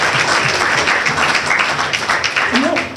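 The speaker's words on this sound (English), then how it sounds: "We can have a round of applause for our supervisor." Brisk, dense applause for a supervisor at a mayor's breakfast, with many hands clapping loudly and evenly throughout.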